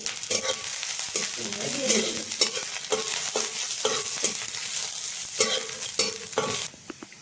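Garlic, chopped ginger and curry leaves stirred and frying in hot oil for a bread snack, a dense crackling sizzle punctuated by regular spoon scrapes against the pan, dropping away just before the end, without speech.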